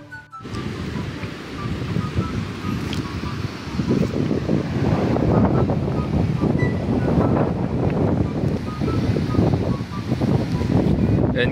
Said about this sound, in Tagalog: Medyo mahangin lang pero dadalhin ko kayo dito sa lugar nila Viancy.